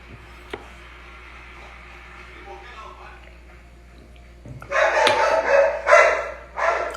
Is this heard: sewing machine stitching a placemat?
no